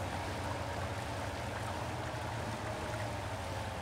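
A heavy truck in the MudRunner off-road game wades slowly through deep water, giving a steady, dense rush of churning, splashing water over a low engine rumble, continuous and fairly loud with no voices.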